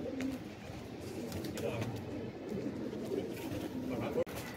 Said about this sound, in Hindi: ये आया जी किसी का कबूतर ही है